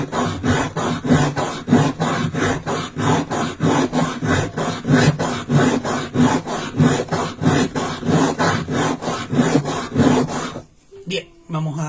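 Rhythmic back-and-forth grinding and scraping as an ordinary chondrite meteorite is coarsely polished, about two strokes per second, steady and close, stopping near the end.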